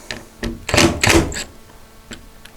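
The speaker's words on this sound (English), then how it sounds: "let that door settle down." An ArmorTech aftermarket door settles into place on a 2022 Polaris Ranger 570 UTV, giving a few muffled thunks and rattles clustered in the middle, moderately loud and close, with no talking.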